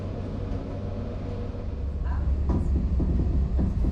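A passenger train runs along a line in Portugal toward the Spanish border, heard from inside the carriage as a steady low rumble with a few light clicks and rattles, a voice talking over it.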